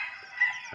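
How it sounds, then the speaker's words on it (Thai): A rooster crows once, a short faint call in a rural durian orchard after rain, heard on its own against a quiet background. "เสียงไก่ขันจอกแก๊กจอกแก๊กจอกแก๊ก"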